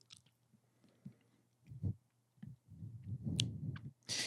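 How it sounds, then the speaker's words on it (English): Close, wet gum chewing in a quiet room, with irregular smacks and clicks, faint at first and then louder and busier toward the end, under a low steady hum. "Could you stop chewing your gum, please?"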